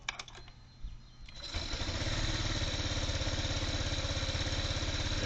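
An engine cranks with a few sharp clicks and stutters, then catches and settles into a steady, even running rumble that continues, fairly close and moderate in level.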